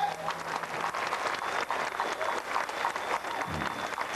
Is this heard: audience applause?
yes